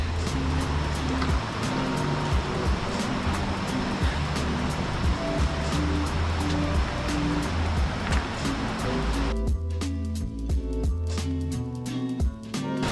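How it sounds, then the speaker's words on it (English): A jungle waterfall in Hawaii roars steadily and loudly as a dense, constant rush of falling water, close by and unbroken, with a sharper rhythmic rattling texture taking over near the end. "it's a really nice waterfall"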